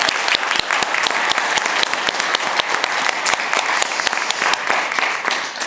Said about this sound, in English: I'd like to give them all a round of applause for doing so well